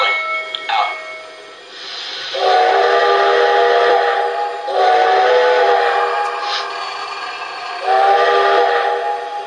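A small model steam train whistle on a Lionel Legacy or MTH Reading & Northern Pacific locomotive sounds in three long, loud blasts separated by short pauses, with a brief chirp at the start and a soft mechanical hum underneath.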